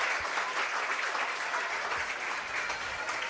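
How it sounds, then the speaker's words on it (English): Loud, steady applause from the River Bandits home crowd at a baseball game as a player walks back to the dugout, a dense continuous wash of clapping for several seconds. "Loud applause from the River Bandit faithful as he's walking back into the dugout"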